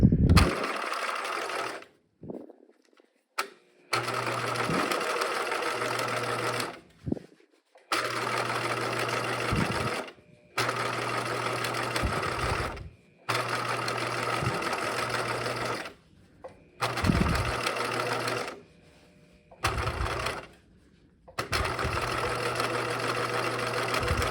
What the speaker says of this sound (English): I'm just bringing it back at the top of the same seam, and I'm going to stitch again